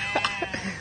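A goat bleats a few short times close by at a rural camp in Aceh, the animal later to be roasted, with faint background noise.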